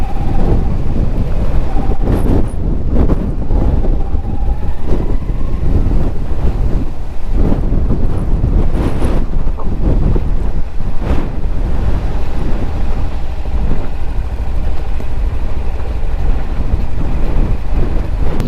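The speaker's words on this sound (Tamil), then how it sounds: "பயங்கர காற்று." Strong wind buffets a GoPro microphone during a Kawasaki Ninja 300 ride near Palamalai, a loud, continuous roar with gusting surges and thumps for the whole stretch and no talking.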